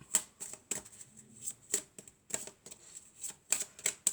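Tarot cards are shuffled and handled close by in quick, crisp bursts of riffling and slapping, repeating irregularly at low volume with short pauses between.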